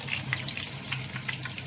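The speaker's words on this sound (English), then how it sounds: "I'm frying some more in here." Pieces of sesame chicken fry in hot oil with a soft, steady bubbling sizzle, fairly quiet and uninterrupted, with no voices over it.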